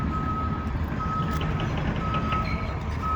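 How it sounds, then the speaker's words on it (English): A construction laser level on a highway project site emits a steady, continuous electronic beep tone, heard over a loud low rumble of heavy trucks and machinery nearby. "when everything is level, you'll hear a beeping sound"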